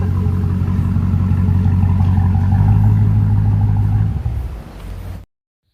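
Through an aftermarket exhaust, a Dodge Charger Hellcat gives off a loud, deep, throbbing engine rumble up close. It falls away sharply near the end, leaves a softer low drone, then cuts off.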